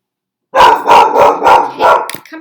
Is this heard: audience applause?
no